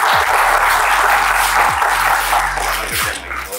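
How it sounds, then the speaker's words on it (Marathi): Loud audience applause at a stock market class event, dense close clapping with a few low thumps and a faint voice under it, tapering slightly at the end. "बाबांसाठी जोरदार टाळ्या वाजवा."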